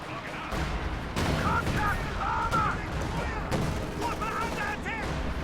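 An ML-20 howitzer firing in a World War II real-time strategy game: distant booming artillery reports and explosions mixed with scattered gunfire, under a caster's commentary.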